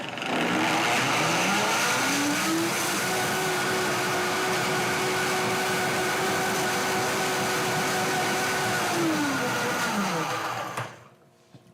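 A countertop blender runs steadily for about ten seconds, its motor whine rising in pitch as it spins up, holding loud and constant, then dropping away as it shuts off near the end.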